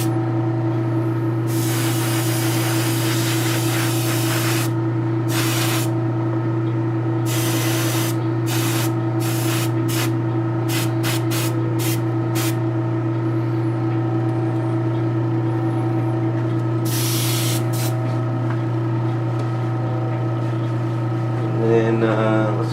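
An airbrush sprays a skin-tone base coat of paint in repeated hissing bursts, some long and some short, over a steady low compressor hum.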